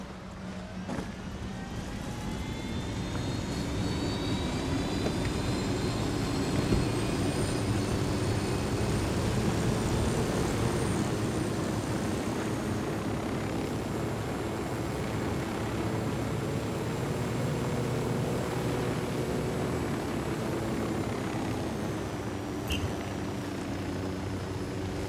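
Aircraft piloted in the video game Ghost Recon Wildlands, a steady engine and rotor drone holding at an even level for the whole stretch, with rising tonal whine and no talk.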